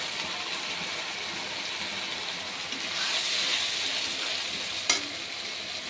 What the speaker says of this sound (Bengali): এটা দিয়ে একটুখানি বেশ মশলাটা কষিয়ে নেব।